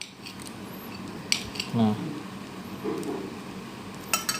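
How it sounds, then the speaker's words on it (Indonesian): A metal spoon cuts tofu into pieces in a bowl while asinan, a Betawi vegetable dish, is being made. There are a few scraping clinks and taps close by, and a voice speaks briefly at the start. "Tahunya kita potong-potong ya, potongnya pakai sendok ya."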